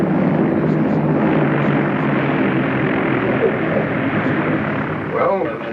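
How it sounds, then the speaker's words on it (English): An airplane lands on a runway under a steady, loud droning engine roar that holds throughout. "Approaching the end of runway. On course on the glide path. Now start breaking your glide. Take over visually now and complete your landing."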